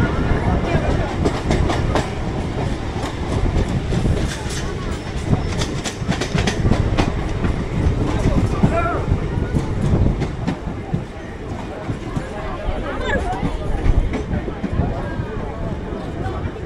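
A Sealdah–Canning local train near Park Circus rumbles and rattles with irregular clanks and clicks throughout, close and fairly loud, while someone talks over it.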